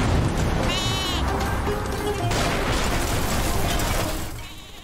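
A goat bleating sound effect gives a quavering, harmonic bleat early on, set against a dense, noisy roar with bursts like an explosion that continue for several seconds before fading.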